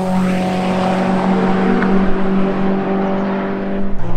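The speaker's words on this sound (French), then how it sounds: "L'échappement qui sonne à côté." A Caterham race car on a track circuit roars with a loud, steady, droning engine and exhaust note that holds for the whole stretch, with no speech over it.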